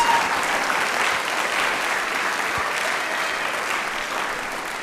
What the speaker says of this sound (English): How about one more big round of applause for all 14 of these amazing athletes?